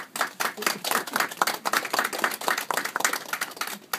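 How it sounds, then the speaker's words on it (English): A round of clapping at a ceremony honouring military veterans, a small group clapping steadily and fairly close for the whole stretch, with no voices over it. "I'd just like to give you a round of applause and say thank you for your service"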